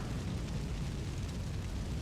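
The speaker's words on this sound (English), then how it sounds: "roiling magma explosions. That's insane." Roiling magma explosions from a spell in Elden Ring, a dense continuous roar of overlapping blasts and rumble, loud and steady with no gaps.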